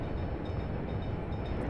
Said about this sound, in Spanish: Mira cómo se siguen los trenes